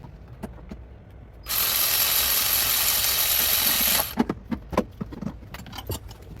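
A ratchet with a swivel and a 12 mm socket turns a bolt on a Hyundai 6-speed DCT transmission. A few seconds of steady broadband noise give way to a run of sharp, close metallic clicks and clacks.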